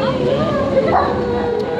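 Puppies bark and yip during a socialisation session, with short excited barks close by over a murmur of people talking.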